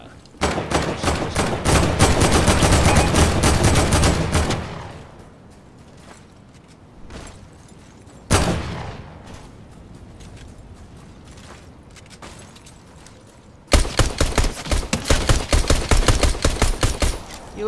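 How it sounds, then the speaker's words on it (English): Loud, rapid pistol gunfire in the Fortnite video game comes in dense bursts, with quieter gaps and scattered clicks between the volleys. "Pistol popping over here."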